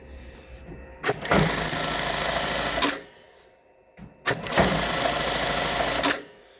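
A Sewtech ST-1900-AS bar tack sewing machine runs at full speed in two loud, steady bursts of rapid needle stitching, each lasting about two seconds with a short quiet pause between them.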